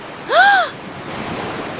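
Ocean waves wash in at a beach, a steady, airy surf noise heard close by, with a brief shouted voice at the start.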